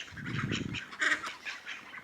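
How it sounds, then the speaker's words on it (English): Little ducks at a campsite in Ronda, Spain, give a few close, nasal quacks and honks in short bursts, with no talk over them. "There's little ducks everywhere, look."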